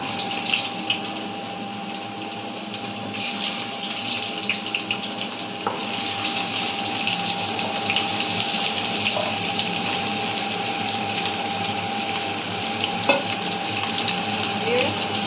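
Chopped mixed vegetables fry in hot oil in a kadai for a Bengali-style sabzi, giving a steady close sizzle with the scrape of stirring throughout and no talking.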